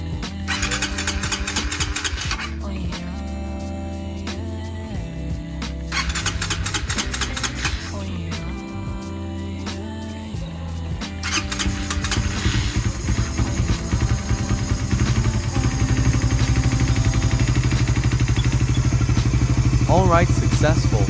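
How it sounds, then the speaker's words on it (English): A Raider 150 FI motorcycle engine, fresh from an injector replacement, cranks over partway through and settles into a steady, close, fairly loud idle that runs to the end, after quieter sounds at the start. "After ang calibration ang pump, pwede neo start yung engine."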